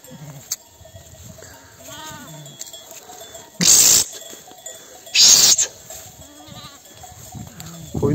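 Sheep bleat in short harmonic calls while grazing on a highland summer pasture. Two loud bursts of noise break in partway through, and the flock sounds at a moderate distance with no talk.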